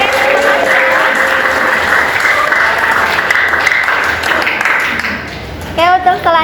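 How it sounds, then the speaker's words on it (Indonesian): A classroom of students applauds in a school session, with dense, loud clapping running steadily for several seconds, then fading as a voice begins speaking. "kasih aplaus untuk kalian semua"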